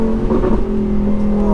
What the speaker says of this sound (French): 5000 tours et ça fait tous les pops.